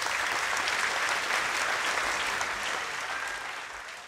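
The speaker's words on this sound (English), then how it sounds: "Might I just take a moment to applaud the artists and curators" Audience applause for artists and curators at an offender art exhibition, a dense steady burst of many hands clapping that fades slightly toward the end.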